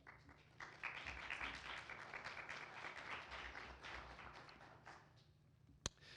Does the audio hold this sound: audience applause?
yes